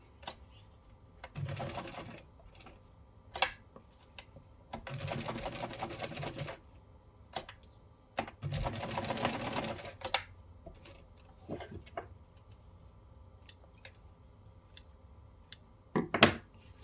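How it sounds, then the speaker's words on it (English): A home sewing machine stitches a box around Velcro on a fabric envelope in short bursts of rapid whirring, each running a second or two, separated by quiet pauses and small clicks of handling, close and fairly soft. "just stitch a box around it"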